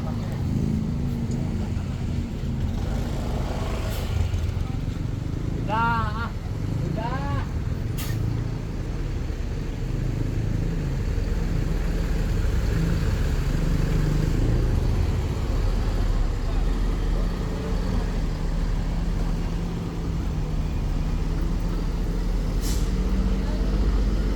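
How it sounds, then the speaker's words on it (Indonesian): A Rosalia Indah bus, number 3101, pulls out of the Pondok Pinang bus terminal with a loud, steady diesel rumble, short hiss bursts and busy terminal noise around it, while someone talks over it. "Selanjutnya Rosale Indah 3101 yang meninggalkan terminal."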